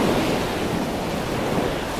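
Heavy seawater and surf in the Stormworks game during a snowstorm, a loud steady roar of waves and wind with no breaks, close and enveloping.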